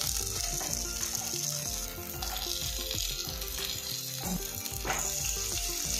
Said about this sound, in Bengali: উল্টে পাল্টে এগুলো আমি ফ্রাই করে নেব।